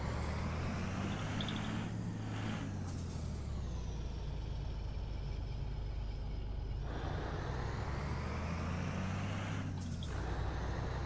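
A heavy truck in American Truck Simulator, driving in Mexico, rumbles past with a low engine drone while air brakes hiss in short bursts, loud and close over continuous road noise.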